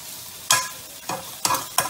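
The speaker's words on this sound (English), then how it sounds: "So as you can see, the onions are sweating nicely." Onions sautéing slowly in a pan for Bangladeshi dal chorchori, heard as a low sizzle broken by four sharp stirring scrapes close up.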